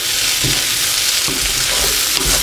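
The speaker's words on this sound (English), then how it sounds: "Just give it a nice stir." Potatoes and onions frying in butter hiss in a loud, dense sizzle while a utensil stirs them, scraping the pan in a few low pushes, close up.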